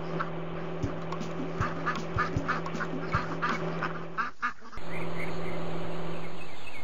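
Cartoon baby ducks quacking in a children's animated show, a series of short quacks over steady background music, with a sharper tone change near the end.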